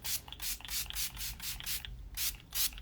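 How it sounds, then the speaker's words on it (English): Plush Prep Mist setting spray is pumped onto a face in about a dozen quick, breathy hisses in an even rhythm, close and fairly soft, with a short gap near the end and no speech. "it's just a fine mist, and you just kind of spray it all over"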